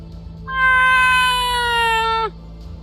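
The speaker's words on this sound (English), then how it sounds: "There's a sad meow of a very wet cat now" A very wet cat lets out one long, sad meow, loud and close, rising then sliding down at the end, with steady background hum and no talking.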